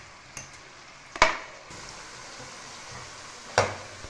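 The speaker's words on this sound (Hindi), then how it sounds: "ये भी फ्राई हो जाएगी।" Masala for stuffed karela (bitter gourd) with tomatoes fries in ghee in a pan, a soft steady sizzle with two sharp scrapes of a spoon stirring against the pan.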